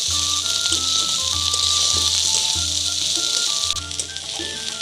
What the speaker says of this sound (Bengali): কড়াইয়ে তেল গরম করে নিয়ে তার মধ্যে কুচি করে পেঁয়াজ এবং কয়েক টুকরা কাঁচামরিচ দিয়ে ভালোভাবে ভেজে নিচ্ছি